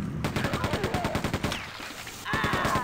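Rapid gunfire from the Quake 2 RTX video game rattles off in a fast automatic burst, stops for a brief lull, then another dense volley starts near the end.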